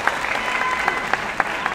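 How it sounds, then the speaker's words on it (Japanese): Audience applause for contestants at the 63rd All-Japan Chindon Competition, C Block preliminary: steady, dense clapping from a hall crowd with a few sharper individual claps standing out, continuous throughout. "皆さん大きな拍手でお迎えくださいませ。"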